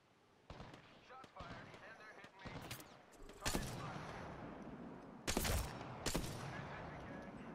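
Gunfire in the video game Apex Legends, with scattered single shots and short automatic bursts at moderate distance and several louder close blasts, while players talk over it.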